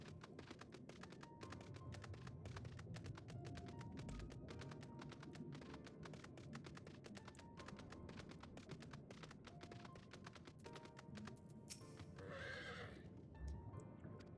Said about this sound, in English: you can call your horse and run now